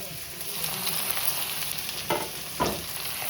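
Chopped tomato with ginger and green chilli hisses and crackles in hot oil, a steady close sizzle with a couple of brief louder spatters as it is stirred.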